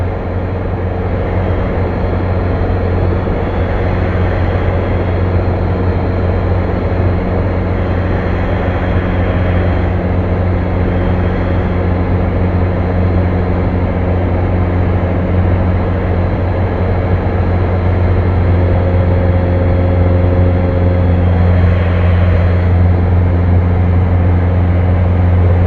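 TB9 light aircraft engine heard from inside the cockpit while flying circuits, a constant loud droning hum with steady low tones holding throughout, close and uninterrupted.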